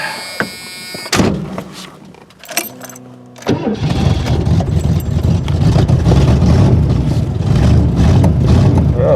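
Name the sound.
Ford Granada car engine starting up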